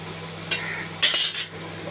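Masala spices sizzle in a hot pan while a metal spoon stirs and scrapes, giving a couple of short close clinks and scrapes over a steady frying hiss, with no one speaking.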